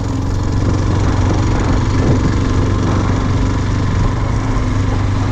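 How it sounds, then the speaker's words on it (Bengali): A motorcycle engine drones loud and steady throughout a ride up a mountain road in North Bengal during the monsoon, a continuous close hum with no speech. "কেউ নেই দেখো বাইক রাইড করতে খুব ভালো লাগছে"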